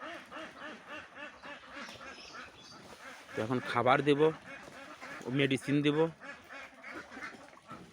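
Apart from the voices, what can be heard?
ducks quacking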